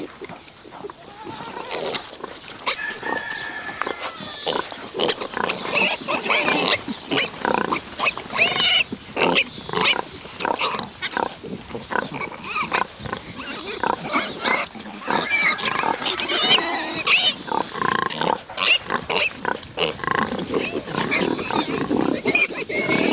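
A sow suckles her piglets in a farm pen, with a continuous crowded chorus of grunts, squeals and snorts from the jostling litter, loud and busy throughout.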